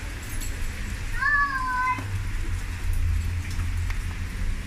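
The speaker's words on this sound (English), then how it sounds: "And I'm cycling back in the rain." Steady rain falling outdoors while cycling, a continuous soft hiss with low rumbling wind noise underneath and a brief high cat-like squeal partway through.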